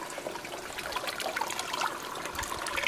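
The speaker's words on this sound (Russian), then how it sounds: "появился горный родник, святой источник" Water from a mountain spring runs in a steady, close trickle and splash, a continuous bright gurgling flow with no voices.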